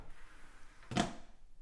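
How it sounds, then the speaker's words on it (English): An IKEA Maximera kitchen drawer closing, a single brief, soft thud-click, close and quiet against a faint room background. "Close the drawer, listen for the click."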